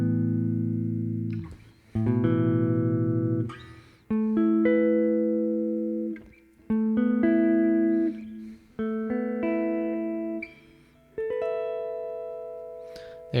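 Guitar chords are strummed and left to ring, moved across different strings, each one sustaining for a second or two before the next, close and alone with no voice.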